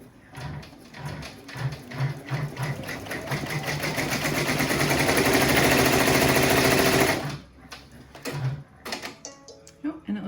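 An in-the-hoop embroidery machine stitches lettering on a FIFA World Cup soccer ball coaster, its needle chattering in a fast steady rhythm that swells for several seconds, then stops, followed by scattered clicks and brief mechanical taps.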